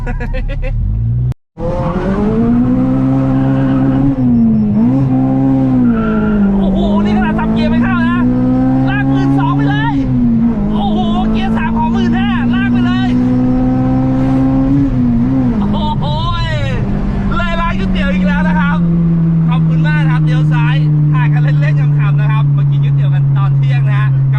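A car revving hard and accelerating up through first, second and third gear, engine pitch climbing and dropping at each shift, loud and close, ending in a long steady high-rev drone; people talk over it.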